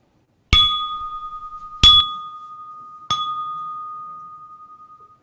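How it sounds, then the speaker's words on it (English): A bell rung three times to open church worship, each clear metallic strike ringing out with a long sustained tone that fades slowly, evenly spaced about a second and a half apart, alone in a quiet room. "may the sound of the bell and the music of the prelude center us"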